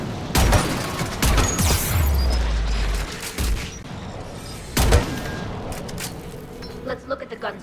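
Anti-aircraft guns in Mass Effect 3 fire in loud, booming bursts, with several heavy thumps spaced across the scene, mechanical clanks between them, and battle noise and voices around.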